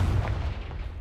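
Fire-blast spell Confringo detonating in the game Hogwarts Legacy: a deep, loud burst of booming rumble that rolls on briefly and decays.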